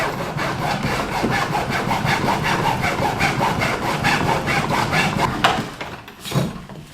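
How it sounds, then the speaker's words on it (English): A hacksaw cuts a piece in half in an old pole barn being turned into a paint booth, with fast, steady rasping back-and-forth strokes, loud and close, that stop near the end with a couple of clunks. "what if I take a hacksaw, I cut this thing in half."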